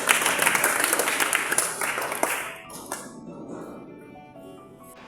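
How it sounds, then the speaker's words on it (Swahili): Church congregation clapping hard in a thick burst that fades out after about two and a half seconds, leaving a quiet room with a few faint clinks and stray claps. "Pigeni makofi."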